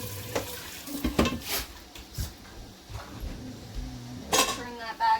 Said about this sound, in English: So I'm gonna just give my pot a rinse.